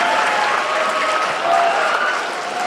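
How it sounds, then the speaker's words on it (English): Audience at a school debate event, including middle school debaters, applauding steadily in a loud, even wash of many clapping hands throughout. "Give them another round of applause"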